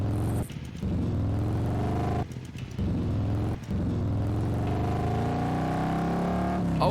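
Motorcycle engine in the video game Doom II drones at a steady pitch, its tone rising and shifting as it revs, broken by brief crackling bursts, loud and close with no talk.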